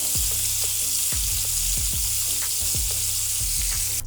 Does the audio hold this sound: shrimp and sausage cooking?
yes